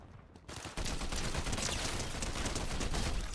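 Rapid automatic fire from an unvaulted weapon in Fortnite, a loud dense burst of shots that starts after a short quieter moment and runs continuously to the end.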